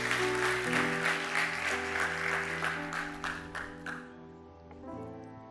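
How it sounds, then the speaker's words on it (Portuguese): A church congregation claps at a worship service, steady dense applause that holds for several seconds and then tapers off while sustained organ or keyboard chords ring underneath. "Dê um aplauso bem forte a Deus."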